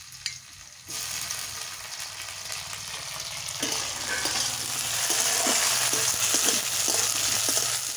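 Chopped tomatoes tossed into a pan of frying vegetables for veg dal: a quiet stretch gives way to a burst of sizzling, then louder spattering hiss with scraping stirs and small pops building steadily, close by and without talk.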